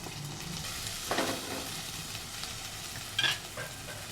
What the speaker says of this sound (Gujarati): ભીંડો તેલમાં સતળાઈ ગયો છે